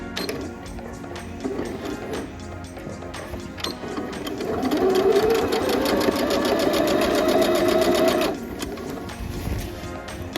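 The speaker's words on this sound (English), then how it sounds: "I'm gonna pick up with my understitching there" Sewing machine understitching the facing of a denim dress, running steadily and fairly close for a few seconds after quieter handling sounds, then stopping.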